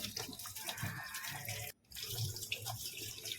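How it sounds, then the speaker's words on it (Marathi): Cabbage rinsed under running tap water in a colander, a steady splashing stream that cuts off briefly midway and then resumes, fairly close with no talking. "चाळणीमध्ये घातला कोबी आणि छान असा पाण्याने धुवून घेतलेला आहे"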